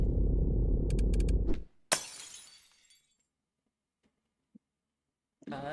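Glass shatters loudly once in a video game, with a sharp crash followed by a trail of tinkling shards fading into silence. Brief game sounds come before it and a voice is heard at the end.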